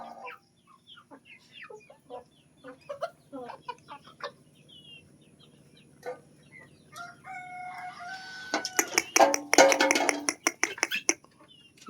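Chickens cluck and squawk in scattered bursts around a yard, growing louder and busier near the end, with quiet gaps between calls.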